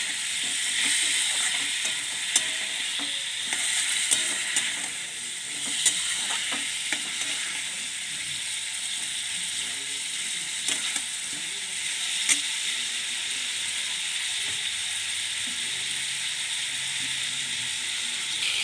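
Curry (kosha) frying and being stirred in oil, a steady bright sizzle with occasional scrapes and taps of the stirring utensil, close and continuous, with no talking.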